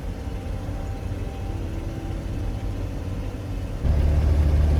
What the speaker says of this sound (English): First drive in the new car. It's a lot louder than Oki.